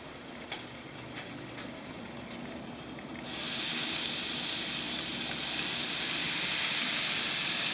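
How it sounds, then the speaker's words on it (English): Beef steaks sear in a hot pan that is sticky from an onion mixture, beginning as a soft crackle with faint ticks and then jumping to a loud, continuous hiss. "Now we're ready to put the steaks on the pan to sear."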